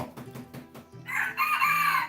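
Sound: rooster crowing

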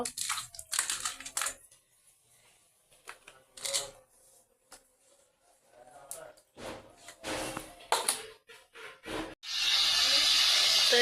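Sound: bata fish frying on the stove

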